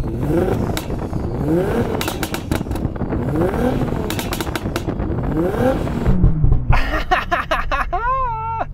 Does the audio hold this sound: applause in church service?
no